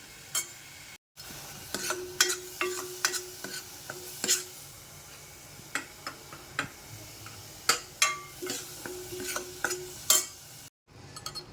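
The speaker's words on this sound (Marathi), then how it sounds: "हे चांगलं तेल सुटेपर्यंत परतून घ्यायचं" Raw masala and onion fry in oil as a spoon scrapes and stirs the pan, producing irregular sharp clinks and scraping taps over a soft, low sizzle, fairly quiet and without talk.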